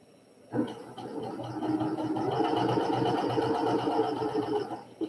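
A sewing machine runs steadily while stitching quarter-inch seams on quilt block pieces chained one after another, a continuous close mechanical whir and rapid needle chatter starting abruptly and holding for several seconds without talk.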